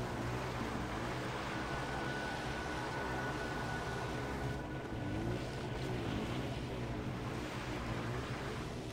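A vehicle driven in the video game Far Cry 4 gives off a steady engine drone with a water-like wash, continuous and fairly loud for the whole stretch, with no talking over it.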